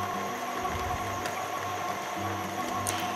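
A kitchen mixer runs at slow speed kneading bread dough for a cottage loaf, giving a steady, even motor whir that holds throughout with no talking.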